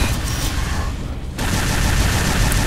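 Rapid gunfire in Unreal Tournament 3 aimed at a tank, a dense continuous rattle of shots that drops out briefly midway before resuming, with no speech.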